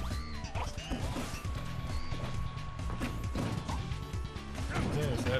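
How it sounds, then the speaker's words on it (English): Heavy hits from Lucario in a Super Smash Bros. match, loud crashing smashes and thwacks over busy game music and effects, dense and continuous with occasional faint voice in the mix. "Those smashes from Lucario"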